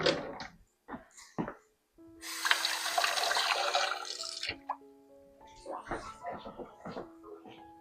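Cold tap water runs over a spoon at a kitchen sink for about two seconds, a steady splashing rush framed by clinks, taps and brief knocks, with no talking.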